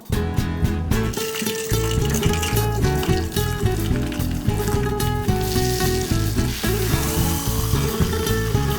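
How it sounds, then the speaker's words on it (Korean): Steady, dense sizzling and crackling of battered food deep frying in hot oil in a narrow, tall pot, close and loud, continuous throughout with no talking. "가정에서 튀김 요리 많이 하시는 분들은 요거 진짜 추천드립니다"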